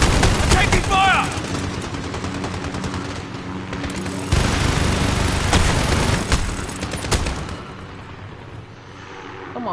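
Heavy, sustained gunfire and explosive booms from Call of Duty Modern Warfare fill the scene loudly and densely, with bursts rising and falling throughout and voices shouting over the fighting.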